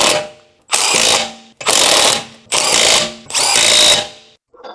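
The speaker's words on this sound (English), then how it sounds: "Use a 17mm large deep socket with a large electric impact wrench to tighten the lug nuts." Large electric impact wrench with a 17mm deep socket tightening the lug nuts on an 8th-generation 2007 Honda Civic: four loud, close hammering bursts of about a second each, separated by short pauses.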